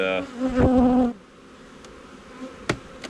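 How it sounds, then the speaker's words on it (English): Honey bees buzzing around an open hive box with frames, a brief loud close drone at first, then a softer scattered hum with occasional single bees zipping past nearby. "there are bees everywhere in here, guys"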